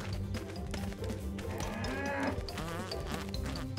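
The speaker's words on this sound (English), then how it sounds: "Save the hungry cow." A hungry cow in a video game gives a drawn-out, wavering moo layered over busy, loud game music and effects.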